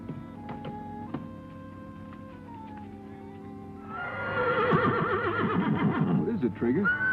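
A horse whinnies out on a trail, several overlapping neighs rising loud and near under background music, following a quieter stretch of tones and faint noise.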